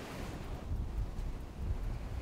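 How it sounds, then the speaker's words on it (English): Gusty wind buffets the microphone with a steady low rumble, while faint surf sounds in the background. "it's a really, really windy day"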